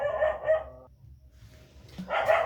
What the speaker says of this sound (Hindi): कुकुरो भौंक रहा है, कुकुरो चाहता है कि हम नहीं पढ़ाएं, तो भौंकने दो